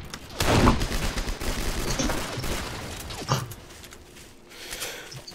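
Gunfire in the Roblox D-Day game, with a sniper hidden in the bushes: a loud burst of shots early on, a sharp single crack later, and a few fainter shots over a steady background of battle noise.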